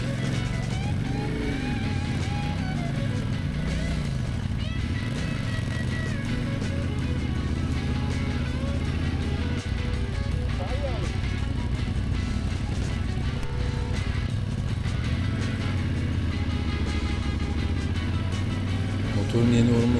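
Yamaha Tenere motorcycle riding slowly over frozen, muddy, snowy mountain road, engine note rising and falling continuously and close, with wind and rumble throughout.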